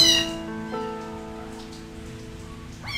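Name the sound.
kittens meowing while competing for milk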